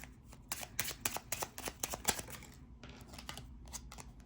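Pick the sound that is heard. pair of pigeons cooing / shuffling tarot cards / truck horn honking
shuffling tarot cards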